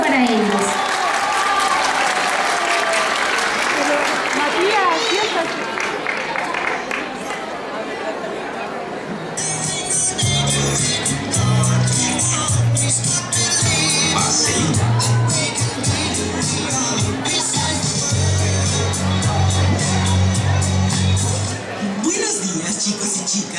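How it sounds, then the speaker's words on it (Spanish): A school performance of Grease draws loud applause and cheering from the audience, with steady clapping, a crowd chattering and children shouting, then voices rise above the noise in the second half. "Un fuerte aplauso."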